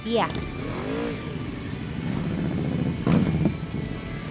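Harley motorcycle engine running while riding along a road on the east side of Bangka Island, a steady low rumbling drone with a brief rise in revs, heard close under a voice.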